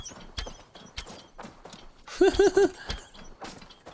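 Horse hooves clip-clopping in a video game played on Google Stadia, a sparse, uneven rhythm of sharp hoofbeats nearby, broken by a short burst of creaking, whinnying commotion midway, with no talking.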